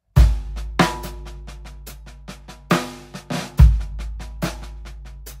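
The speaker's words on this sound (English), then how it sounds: "You can explore playing with some buzzes or maybe some doubled strokes towards the end of the bar after 4" Short, loud snare drum phrase over a booming low backing pulse, with buzzed rolls and doubled strokes filling the end of each bar after beat 4 between sharp accented hits.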